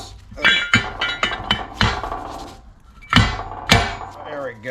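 A Freightliner Cascadia truck air compressor part, held upside down, is struck to knock its piston out: several sharp metallic hits at an uneven pace, close and loud, with someone talking between them.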